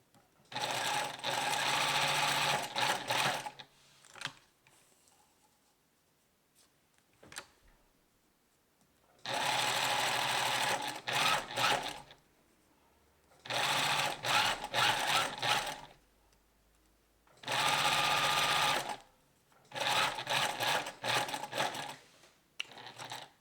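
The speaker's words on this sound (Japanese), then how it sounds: "サンドペーパーの真横を縫う感じですね。" A sewing machine stitches knit fabric laid beside sandpaper, running in four loud, steady bursts of rapid needle chatter separated by short quiet pauses.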